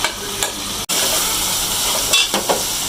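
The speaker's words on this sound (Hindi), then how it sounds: "भिंडी फ्राई करके मैं साइड पे रख दी है" Okra frying in hot oil in a home kitchen gives a steady, close sizzle with a brief drop-out near the start and a few louder crackling swells later, with no talk.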